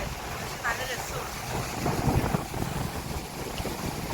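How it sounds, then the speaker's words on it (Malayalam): Strong wind at the seashore in Kanyakumari buffets the microphone with a loud, continuous rushing roar that swells and eases, and voices are faintly heard within it. "ഭയങ്കര കാറ്റ്. പക്ഷെ നല്ല രസമാണ്."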